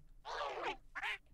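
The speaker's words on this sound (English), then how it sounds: "Oh, he quacks." A creature in the video game Palworld gives two bright, nasal duck-like quacks, the first longer and the second short, loud and close with no talk over them.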